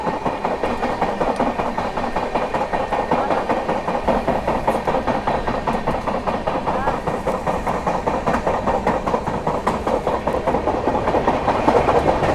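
The Suhaildev Express running at high speed, heard from onboard as a steady roar with a rapid, regular clickety-clack of wheels over rail joints, continuous and loud throughout.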